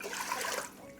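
Water poured into a cooking pot to make ginger syrup for Vietnamese glutinous rice balls, a steady close splashing stream lasting about a second and easing off at the end.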